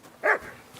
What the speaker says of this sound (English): Doggy? It's not our dog.